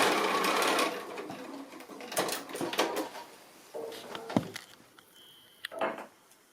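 A sewing machine stitches a seam on a small spool-topper bird pin cushion, running in short close bursts with brief pauses between them.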